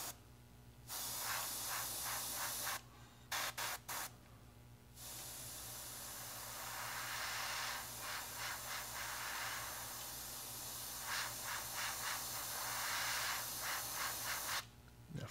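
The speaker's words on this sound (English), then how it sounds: "I'll get a quick sense of how this sprays real fast" Airbrush spraying a warm weathering paint mixture for a 1/48 Tamiya F-4B Phantom underside, a broad steady hiss in long bursts with short gaps near the start and end, close and fairly loud.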